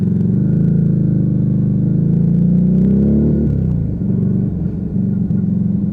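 A Lexmoto Vendetta motorcycle rides steadily in second gear over a bridge, a close, loud engine rumble with a brief dip in the middle before it settles back to an even note.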